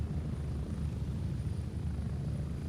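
Video game helicopter in flight, a steady low rotor thump and engine drone that holds constant and fairly close throughout, with no talk over it.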